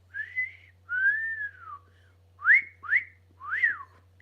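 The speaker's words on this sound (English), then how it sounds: "Sorry, Miss Sky, for missing your whistle" A pet whistles alone in a quiet room: two long, gliding whistled notes followed by three short rising-falling chirps, clear and close.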